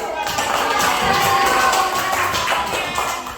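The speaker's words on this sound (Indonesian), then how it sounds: "boleh kasih tepuk tangan yang merasa benar" Classroom of students clapping together during a science quiz lesson, a dense steady patter of many hands held at even loudness for a few seconds, with some murmuring voices mixed in.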